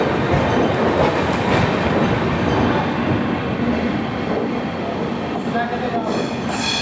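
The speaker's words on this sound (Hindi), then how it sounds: "मात्र 3 मिनट के अंदर डिपार्चर हो रहा है हमारे ट्रेन का" The Mumbai Hyderabad SF Express, train 22732, pulls away from a station with a loud, continuous rumble of rolling wheels and carriages and a faint rhythmic clatter, the noise easing slightly toward the end.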